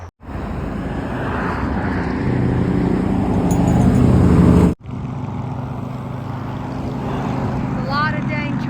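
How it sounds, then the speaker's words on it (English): Heavy traffic roaring past on a busy road that hikers must cross along the Benton MacKaye Trail, a loud continuous engine and tire rumble that cuts off sharply midway, then builds again as more vehicles approach. "A lot of dang traffic, and it's loud."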